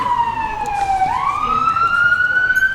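A passing emergency vehicle's siren wails clearly, sweeping down and then climbing again in a long, smooth, loud rise over steady outdoor background noise.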